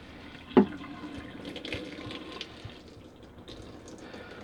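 Dirty water from the tank of a Bissell TurboClean PowerBrush Pet 2987 carpet cleaner is poured into a sink, making a steady, soft trickling stream with one brief splash early on.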